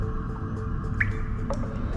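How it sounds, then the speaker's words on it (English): Water drips into an art room sink at a school, two distinct plinks about half a second apart over a low steady background hum. "She heard water dripping from the art room sink."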